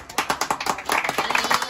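A group claps together at a cafe opening, with a quick, fairly regular run of sharp claps. The claps are close and moderately loud and thicken into a denser burst partway through.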